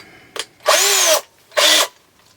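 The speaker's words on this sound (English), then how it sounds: "Drill a hole." Two short bursts from a power drill boring a hole with a very small, sharp bit while fitting a fender on a Toei 650b randonneur bicycle, each whirring run lasting about half a second, close and loud after a brief click.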